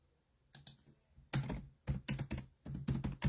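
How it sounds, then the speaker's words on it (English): One-handed typing on a computer keyboard: close, crisp key clicks in irregular bursts and short runs, with no voices over them. "I'm typing one hand, so taking me a minute."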